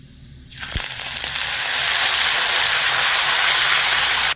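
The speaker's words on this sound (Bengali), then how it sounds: "আদাটা হালকা করে একটু ভেজে নেব" Grated ginger drops into hot oil already seasoned with asafoetida and chilies, setting off a sudden, loud, close sizzle that holds steady and hissing for several seconds without talk.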